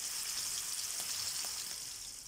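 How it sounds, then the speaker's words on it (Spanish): Horse mackerel fries in hot oil in a pan, a steady close hiss and crackle of sizzling with no talk. "nuestro pescadito se está friendo"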